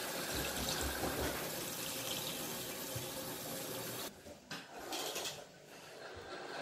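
Water running from a tap into a cooking pot for Syrian ouzi, rice with meat, a steady close rushing flow that briefly drops and resumes near the end.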